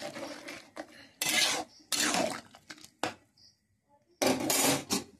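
A curry gets stirred in a metal pot, with short bursts of scraping and clattering spoon-on-pot strokes separated by near-silent pauses, close and fairly loud.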